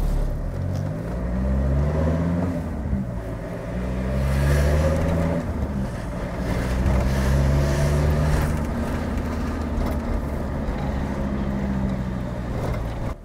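VW T4 van driving with a faulty clutch and flywheel, giving a loud, close engine drone with rising and falling rumbling tones as the revs change, heard continuously throughout.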